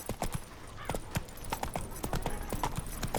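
Roach, Geralt's horse in the video game The Witcher 3: Wild Hunt, galloping with a steady, rapid clip-clop of hooves at moderate distance, sounding alone and without speech.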